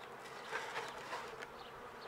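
Honeybees buzzing around an open hive colony in early spring, a soft steady drone with a few louder passes from nearby bees.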